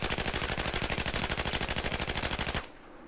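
Rapid automatic gunfire in Battlefield 4, a steady stream of loud evenly spaced shots for about two and a half seconds that cuts off abruptly, leaving a faint background hum.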